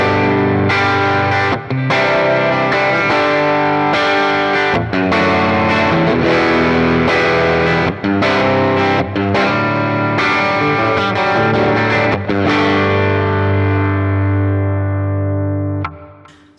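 A clean electric guitar with tremolo, played through a Morgan amp model on a Quad Cortex, rings out loud and sustained in chords with slight grit and a pulsing shimmer, with brief gaps between strums and a final fade.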